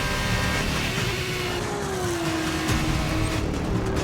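A Formula 1 race car engine in the F1 2019 racing game roars steadily at high revs, pitch shifting smoothly as it climbs and eases, loud and continuous throughout with no speech.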